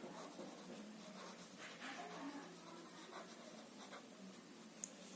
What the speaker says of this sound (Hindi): तो हम लिख लेते हैं पोटेंशियल